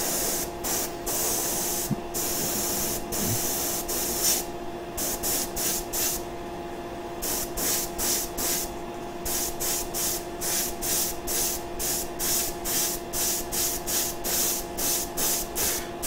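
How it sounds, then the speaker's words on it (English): An airbrush sprays paint onto a bronze-toned miniature in quick, repeated short bursts. Each burst is a close, steady hiss, and the brief pauses between them set up a regular rhythm over a faint constant hum, with no talking. "It's not one continuous long spray. It's a slow, successive short bursts."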